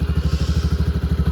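A motorcycle idles close by in a rhythmic, pulsing low putter, steady and even over a short stretch with no voices.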